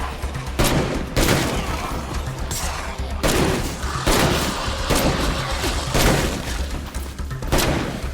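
Loud, dense gunfire in the video game State of Decay 2 during a noisy fight, heavy repeated shots and booms in rough bursts about once a second, continuing without pause.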